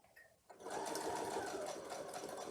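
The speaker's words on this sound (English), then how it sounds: "I'll pick up the last 2 pieces for this arc and run them through the sewing machine" A sewing machine stitches curved quilt pieces for a double wedding ring block. A quiet start gives way to a steady, continuous whirring run that is close and fairly soft.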